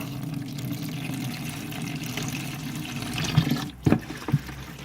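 Flush water runs steadily from a disconnected heater core hose during back flushing and trickles and splashes onto the ground. A few louder sloshing bursts come near the end.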